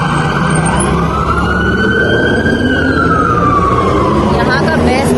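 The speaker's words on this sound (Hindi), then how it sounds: "एम्बुलेंस जब जा रही होती है ना तो सब उसको स्पेस देते हैं और उसको कोई नहीं रोकता।" An ambulance siren passes along a road in the UAE, a loud continuous wail rising and falling in pitch as the vehicle goes by, with traffic rumble beneath.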